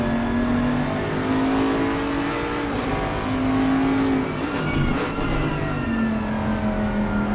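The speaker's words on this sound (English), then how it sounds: "Holmes in a Bentley, totally different car." Racing car engine accelerating around a race track, a loud sustained whining roar with rising and falling pitch as the gears shift, continuous and with no voices.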